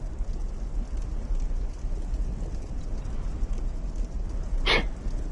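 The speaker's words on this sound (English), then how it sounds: "it actually just started to rain in real life" Real rain falls outside in a steady, soft hiss with a low rumbling undertone, and one brief brighter sound cuts through near the end.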